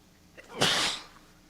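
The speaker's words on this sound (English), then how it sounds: "I get sneezing attacks sometimes." One sharp sneeze bursts out close to the microphone after a short inhaling catch, then fades into quiet during a live talk show.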